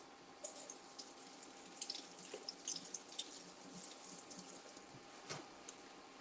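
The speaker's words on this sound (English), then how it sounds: "So let's give these a rinse." Chili peppers and other vegetables get rinsed under a running kitchen tap, water splashing and dripping steadily at close range with occasional louder spatters, no talking.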